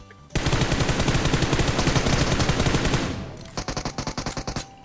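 Rapid automatic gunfire from a shooting video game: a long, steady, loud burst of rapid shots, a brief pause, then a shorter burst of evenly spaced shots, with no talk.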